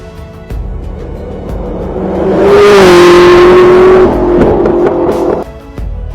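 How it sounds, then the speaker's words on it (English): SSC Tuatara hypercar engine revving loudly and close, its tone climbing to a sustained high-pitched howl that holds, then eases off and drops away, no talking. "The SSC Tuatara."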